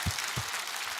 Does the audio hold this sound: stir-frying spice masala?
no